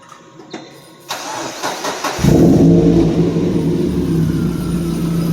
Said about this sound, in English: just as proof that the car starts